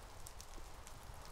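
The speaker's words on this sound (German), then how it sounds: "Aber da es regnet" Steady rain falling in the Minecraft video game, a continuous soft hiss of drops with no distinct impacts, alone and fairly quiet throughout.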